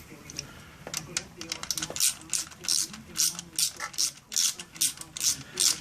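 A ratchet wrench works on a Triumph Rocket 3 motorcycle during radiator and clutch removal, giving bursts of quick clicking strokes in an irregular rhythm, close up, with someone speaking briefly.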